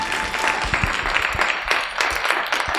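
Audience applause at a WE Nation women's empowerment conference, a steady roomful of clapping that carries evenly through the whole stretch without pause.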